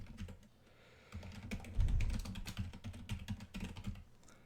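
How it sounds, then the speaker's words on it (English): Typing on a computer keyboard: rapid, close clicking keystrokes in irregular bursts, fairly quiet, with no talking. "Well, I'm going to type it here."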